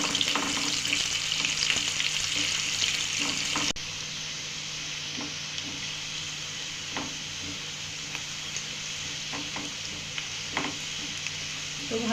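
Sliced onions deep-frying over high heat for a crisp golden fried-onion topping for chicken bhuna khichdi, a steady dense sizzle that drops in level partway through, with occasional soft clinks of stirring.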